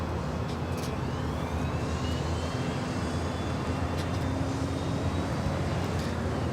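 An Air Tahiti Nui airliner departing LAX, a continuous broad jet roar that holds steady for several seconds, heard from a distance, with a faint traffic-like hum beneath it.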